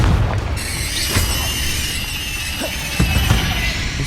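A Confringo explosion spell cast in Hogwarts Legacy, heard as deep booms and sharp pops against a loud, steady magical rumble, with no voices.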